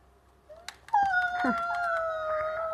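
A drawn-out wolf howl from Minecraft, rising and holding steady with a second voice layered in, fairly close over a faint low background.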